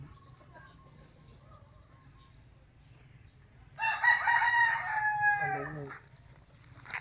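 On a farm in the Philippines, a rooster crows once loudly and nearby over a low steady hum, with faint clucking from other chickens before and after the crow.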